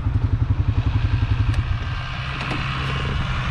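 A four-wheeler ATV engine runs close by on a farm during soybean planting, a rhythmic chugging idle that beats fast and even before settling into a steadier, rougher running drone.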